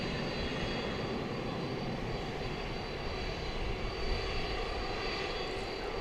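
A jet airliner takes off at night from runway 18 Left at DFW Airport, its engines giving a steady, loud, broadband roar that holds constant for the whole stretch.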